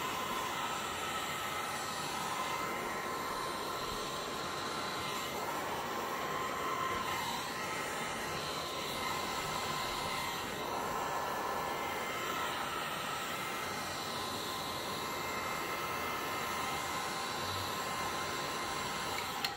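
A handheld torch set on low blows a steady, breathy hiss while it warms resin, a continuous even roar close by with no talking.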